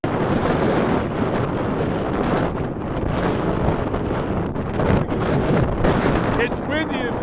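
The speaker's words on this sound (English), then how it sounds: "It's windy as hell." Strong wind roaring and buffeting the microphone continuously, loud and close, with a low rumble underneath, on a highway about 20 miles east of Panaca, Nevada.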